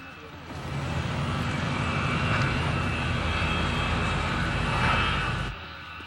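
Airplane engines drone in flight, a steady, loud broadband roar heard from inside the cabin that fades in and cuts off sharply at the end.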